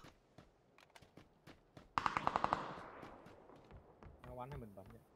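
Rapid burst of automatic gunfire from a video game shooter, a tight string of sharp shots followed by echoing trails, with scattered clicks and game sounds before and after and voices talking nearby.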